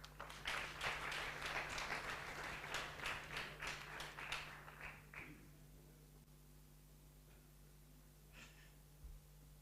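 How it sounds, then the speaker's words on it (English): Conference audience at an ophthalmology meeting in Muhanga applauding, brisk clapping for about five seconds that fades out to room quiet with faint stray noises. "So please applaud for yourself as well."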